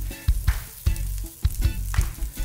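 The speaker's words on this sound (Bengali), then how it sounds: "2টো বড় পেঁয়াজ এভাবে একটু মোটা মোটা করে কুচি করে নিয়েছি। এখন এগুলোকে হালকা ঝলসে নিচ্ছি।" Two large onions, coarsely chopped, sizzle and char in a hot pan, caramelizing. A constant frying crackle runs beneath several sharp clatters of a spoon stirring against the pan, close and fairly loud, with no voices.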